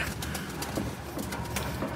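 Soft, low pigeon coos repeat over a dense, muffled background of rustling and flutter, with no speech.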